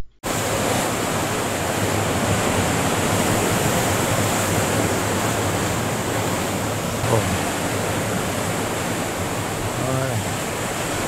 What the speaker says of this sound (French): ce jour-là, la mer était déchaînée